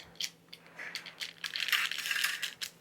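A wooden utensil scrapes frozen food off aluminium foil, giving close, rough scratching and crinkling bursts that grow denser and louder toward the middle before tapering off, with no voices.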